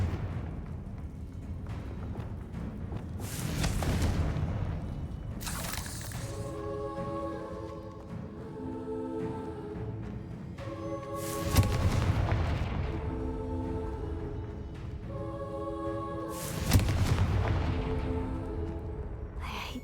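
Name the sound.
Confringo blasting spell explosions, Hogwarts Legacy video game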